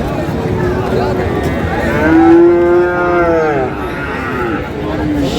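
A Sahiwal bull calf at a cattle market lets out one long, close, loud moo that rises and falls, with crowd noise under it.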